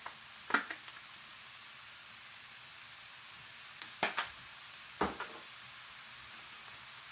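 Ground meat and onions sizzle softly in a pan while being crumbled for homemade chili, a quiet, low frying hiss broken by a few sharp scraping clicks from stirring.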